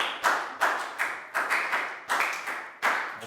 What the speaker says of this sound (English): Big round of applause for Nadia